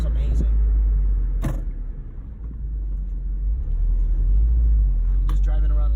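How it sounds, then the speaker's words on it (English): A 2012 Subaru WRX with a COBB short shifter, driven in slow circles, gives a steady low engine rumble heard from inside the car, broken by a few brief clicks and knocks. "I'm just driving around in circles now."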